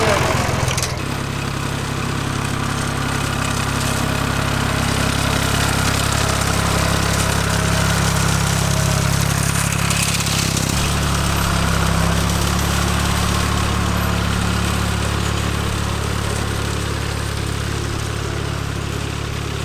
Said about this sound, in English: our neighbour Joaquim, he arrived with his tractor to cut the grass between the olives and on our bottom field.